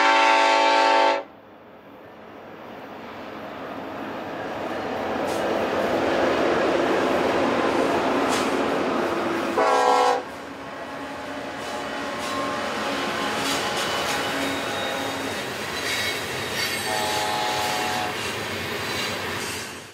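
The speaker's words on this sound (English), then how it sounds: "UP's Yuma sub kept us busy with 1943, the Support Our Troops locomotive on the point of a westbound manifest" A Union Pacific freight locomotive, number 1943, leads a westbound manifest train past at close range with a loud horn blast at the start and another around ten seconds in, while steady rumbling wheel and rail noise carries through the pass.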